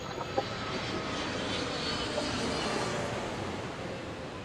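An airplane passes overhead, a steady broad engine roar holding at moderate loudness throughout, with no talking.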